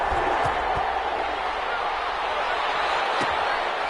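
Steady roar of a stadium crowd in an NFL football video game, a dense continuous wash of noise with a few faint thumps, running unbroken throughout.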